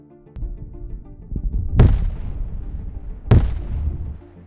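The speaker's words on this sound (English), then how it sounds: "an FPV drone attacks and drops a bomb." Bombs dropped by an FPV drone explode in two loud, sharp blasts about a second and a half apart, each followed by a rolling rumble over a low, noisy background.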